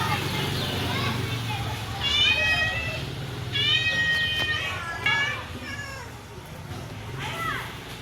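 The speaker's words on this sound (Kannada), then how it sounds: "ಇಲ್ಲೊಂದು ಬೆಕ್ಕು," A cat meows several times in short, high, rising and falling cries at a home, with children's voices and chatter in the background.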